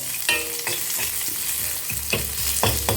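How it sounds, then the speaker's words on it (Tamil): Small onions fry in a pan of oil for a young-jackfruit sambar, a close, steady sizzle broken by several sharp scrapes and knocks of a spatula stirring them, with no talking. "கொஞ்சம் லைட்டாக முருகலாகணும் வெங்காயம்."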